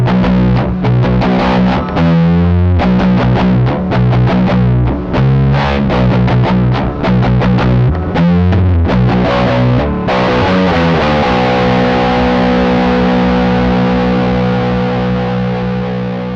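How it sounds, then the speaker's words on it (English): A single Space Cowboy guitar pedal drives a heavily distorted, high-gain electric guitar through a busy riff of choppy chords. The riff then settles into a long sustained chord that rings loud and steady with no other sounds. "I also found you can achieve pretty high gain sounds like this without any need for a second pedal."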